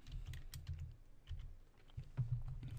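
Quiet, close typing on a computer keyboard while working in AutoCAD, a string of soft, irregular key clicks in short bursts with brief pauses between.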